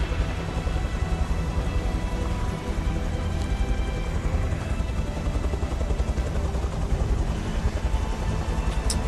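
Helicopter in the game Beyond Two Souls, a loud continuous rotor throb with rapid pulsing chop, steady and close for the whole stretch.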